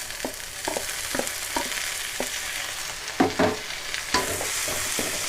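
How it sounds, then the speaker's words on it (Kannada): Onions fry in a pan with coriander leaves and mint for chicken masala, a soft continuous sizzle broken by a series of light stirring scrapes and clinks at an uneven pace. "ಈರುಳ್ಳಿ ಫ್ರೈ ಆಂಡು ಒಂದಕ್ಕೆ ಕೊತ್ತಂಬರಿ ಸೊಪ್ಪೆಲ್ಲ ಪುದೀನ ಎಲ್ಲ ಪಾಡ್ಗ"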